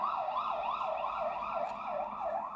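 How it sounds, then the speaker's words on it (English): Ambulance and police sirens wail down a city street in a steady rising-and-falling howl, somewhat distant and continuous, with no voices. "Yes, we got lots of them howling down the street. Ambulances, police cars, and pompieri."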